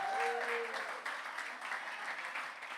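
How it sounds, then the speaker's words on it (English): A crowd applauds Governor Kathy Hochul at an event with Rev. Al Sharpton, a steady, dense clapping that continues throughout at moderate loudness. "Let's give her another round of applause."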